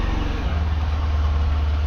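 A motorcycle engine idles close by as the bike is brought out for a long ride, a steady low rumble with an even pulsing throb and no voices.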